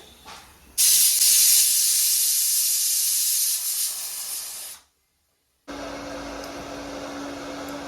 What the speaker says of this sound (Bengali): এঁচড়গুলো প্রেসার কুকারে সেদ্ধ বসিয়েছি